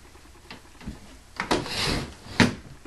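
A clothes drawer sliding open and shut, with a soft knock, a scraping glide and a sharper bump as it closes, heard nearby without speech.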